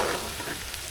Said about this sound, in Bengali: আমার আলু ভাজা হয়ে গেছে, এবার আলুগুলো নামাই ফেলবো।